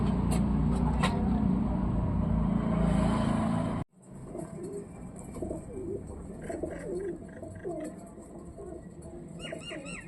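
Soft pigeon cooing amid background traffic noise; the sound cuts abruptly partway through, then quieter repeated coos continue.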